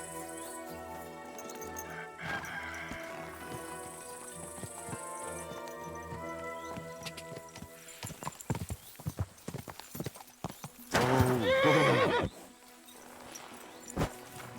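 Game-style hooves clop in a steady rhythm over background music, followed by a loud, drawn-out horse neigh and a few more hoof clops, from the video game Kingdom Come: Deliverance 2.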